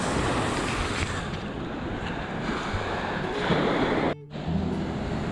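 Ocean waves wash continuously onto a rocky beach at Grand Turk, a loud broadband surf roar with wind buffeting the microphone and a brief dip near the end.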